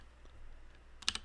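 A short burst of computer keyboard typing, a few quick clacks close by after a stretch of quiet room noise.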